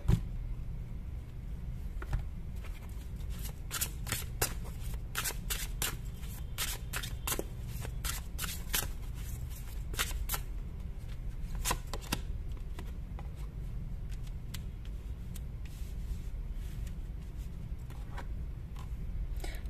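Tarot cards shuffled and drawn by hand, a long close sequence of crisp riffling bursts and sharp flicks in uneven clusters over a faint room hum, with no talking.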